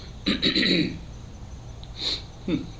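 Close, rough throat clearing in a few short bursts, a long rasp first and then two brief ones, with breathing in between.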